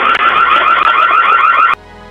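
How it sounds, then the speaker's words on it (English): A loud electronic alarm blares at a house's front door, a rapid warbling tone pulsing steadily for nearly two seconds before cutting off abruptly, close and piercing. "a loud alarm echoed into the air"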